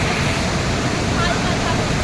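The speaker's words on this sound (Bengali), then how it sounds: "ওই ঢেউ দেখো ওই জায়গাটায় দেখো কি ঢেউ" A loud, steady roar of the rushing Dhauliganga river at Vishnuprayag, continuous and close, with turbulent churning throughout.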